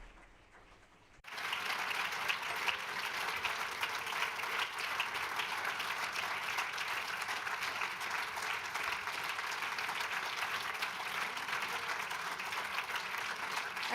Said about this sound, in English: A huge round of applause for Katharina Mader.